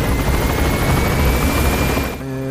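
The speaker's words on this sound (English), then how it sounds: "that is not our helicopter, that's actually an enemy" Enemy helicopter in the Metal Gear Solid V video game, a loud, steady rotor roar that fills the clip before cutting off sharply near the end, with a faint tonal hum afterward.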